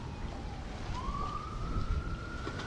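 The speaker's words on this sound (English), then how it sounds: "that's a ambulance." An ambulance siren sounds near a beach where people are fishing, one steady rising tone over constant surf and wind noise, fairly clear but not very loud.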